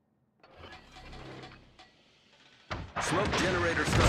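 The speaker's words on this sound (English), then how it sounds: "Smoke generator starting." A destroyer's smoke generator kicks in during naval combat in a warship video game, a sudden loud broadband hiss and roar that holds steady after a stretch of quieter rumbling and radio-style voice chatter.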